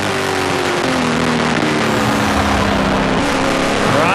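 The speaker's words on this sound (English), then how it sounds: "Riding on board now with the boss, Dave Whitlock, and the Dickies Dodge." Dodge stock race car engine heard from an on-board camera during a 2008 race, a loud, steady roar with rising and falling harmonic tones as it revs through the whole stretch, with no talk.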